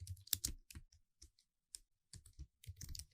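Quick bursts of typing on a computer keyboard while entering a company name, crisp close clicks in short irregular runs separated by brief pauses, alone with no speech.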